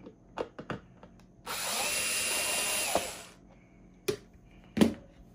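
A power screwdriver whirs steadily for about two seconds, removing screws from an electric kettle, with sharp clicks and taps of handling close up before and after.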